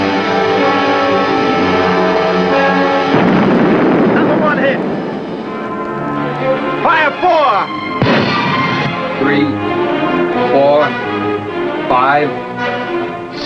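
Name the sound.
torpedo explosion hitting a ship, radio drama effect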